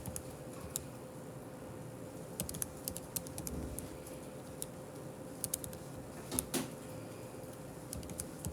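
Graphing calculator keys are pressed in quick, irregular bursts of small clicks and taps, faint and close, over a quiet room hum with no one speaking.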